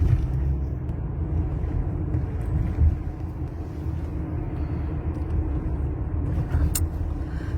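Congested traffic on a street in Tbilisi, a continuous low rumble of idling and slowly moving cars, steady and fairly loud, with a brief sharper noise near the end.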